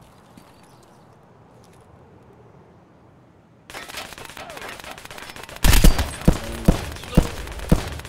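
Gunfire in an Escape from Tarkov firefight: after a few quiet seconds, a loud burst of shots erupts near the end, with sharp cracks spaced roughly half a second apart.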